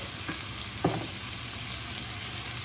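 Onion and tomato sautéing with salt in a hot pan give a steady, loud frying hiss that runs throughout, broken by a brief stirring scrape or two.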